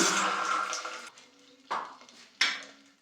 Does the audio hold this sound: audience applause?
no